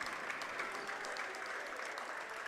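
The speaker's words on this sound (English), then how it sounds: "you can see the efforts being applauded by the coach" Clapping at a high school boys' basketball game, with a coach applauding players' defensive effort, a dense, steady patter of claps lasting throughout.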